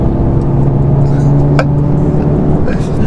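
Engine of a 2023 Mercedes A35 AMG sedan revving in Sport Plus mode with exhaust flaps open, a loud steady drone heard from inside the cabin with a brief sharp pop midway.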